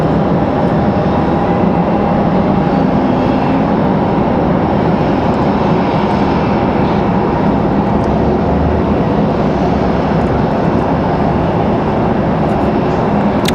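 Loud, sustained engine roar of a heavy aircraft at Raleigh Durham International Airport at night, a dense continuous rumble heard from nearby without talking.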